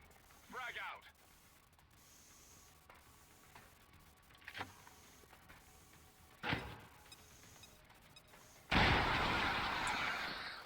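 A frag grenade detonates in XCOM 2 as a loud, sudden burst near the end, preceded by sparse clicks, ticks and a few brief voice lines in a quiet scene.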